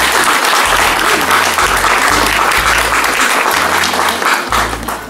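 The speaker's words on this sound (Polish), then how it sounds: "brawa dla wszystkich recytatorów" Loud, sustained applause from an audience at a county patriotic poetry recitation contest, dense clapping filling the whole stretch and easing slightly at the end.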